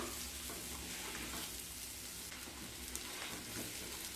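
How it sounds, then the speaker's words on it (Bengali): Eighty-percent boiled potatoes fry in ghee in an open pan over medium heat, giving a faint, steady sizzle with soft crackles throughout. "মিডিয়াম স্টিমে এক থেকে দেড় মিনিট খুব ভালোভাবে ভেজে নেব আলুটা"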